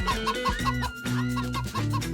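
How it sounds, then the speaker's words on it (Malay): Village chickens cluck in quick, repeated bursts while chasing a city kid, set over bouncy backing music with steady bass notes, and no one talks. "Yang paling tak tahan, ayam pula yang kejar dia."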